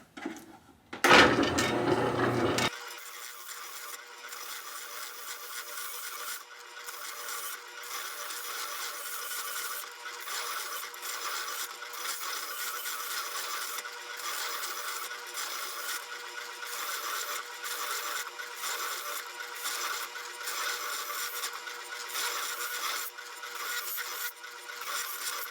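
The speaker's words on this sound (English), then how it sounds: "let's go ahead and get this thing going with this drum sander" A drum sander shaping a knife handle runs with a steady whirring grind, starting after a brief loud burst and continuing evenly with a slightly fluctuating abrasive hiss.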